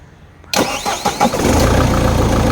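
A Mahindra Thar 4x4 engine cranks to life after a brief quiet moment, with a few sharp turnover bursts, then settles into a loud, steady rumble close by.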